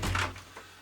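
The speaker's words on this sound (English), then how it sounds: "Close the door." Garage door fitted with a magnetic door switch for an alarm, pushed shut with a single quick, close thud that fades fast.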